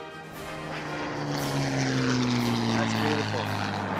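A WWII Spitfire propeller plane's engine drones loudly overhead at the 2014 Red Bull Air Race in Ascot, a steady humming tone that shifts in pitch as it passes, while someone speaks briefly.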